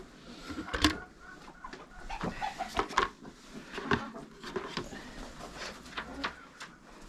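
A broody hen clucks in short, irregular bursts, fairly close, with some soft background noise and occasional sharper calls.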